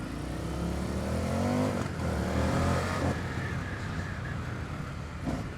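An Indian FTR 1200 S motorcycle ridden in sport mode, its engine revving up and shifting through rising tones, close and loud over steady wind and road noise.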